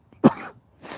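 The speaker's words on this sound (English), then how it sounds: "Still coughing from that drag" A single harsh cough up close outdoors at a campsite after a drag of smoke, followed by a short rough exhale or throat clearing.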